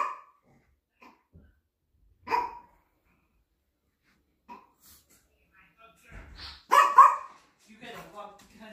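Pet dogs in a home barking and yipping in scattered short bursts, with a louder cluster of barks near the end, separated by long quiet gaps; a person's voice is also heard.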